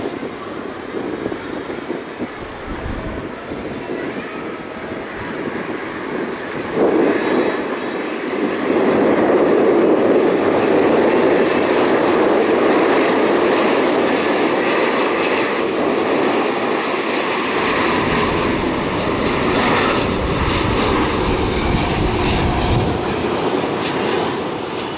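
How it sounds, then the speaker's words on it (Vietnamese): A Silkway West Boeing 777F freighter lands on runway 25R at Tan Son Nhat, a long, continuous jet roar heard from a distance that swells and holds steady throughout. "chiếc máy bay đang bước vào hạ cánh đường băng 25 phải"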